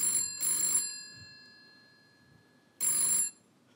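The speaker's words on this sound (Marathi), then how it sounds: "मला दुसरा फोन येतोय" A telephone rings with an incoming call in two bursts of electronic trilling: a double ring near the start, then a pause filled with faint room tone, and another ring near the end, clear and fairly close.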